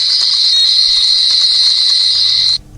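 A Commodore VIC-20 home computer from the 1980s loading from tape gives a loud, steady, high-pitched electronic whine that runs unbroken for over two seconds, then stops abruptly.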